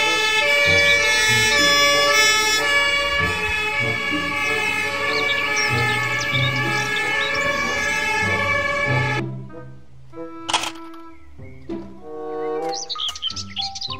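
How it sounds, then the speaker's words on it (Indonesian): A loud wailing emergency siren from a fire truck sounds for about nine seconds, then cuts off, leaving bird chirps and scattered sounds. "Mobil truk pemadam kebakaran."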